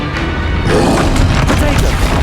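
Combat spells in Hogwarts Legacy, a string of loud crackling blasts and booming impacts layered over each other with a rushing roar, and a voice speaking among them.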